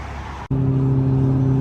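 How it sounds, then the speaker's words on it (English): A 2012 McLaren 12C cruises along the road with a steady, close engine hum and strong tonal drone, after a brief cut in the sound, holding evenly to the end without talk. "So we are cruising in the 12C"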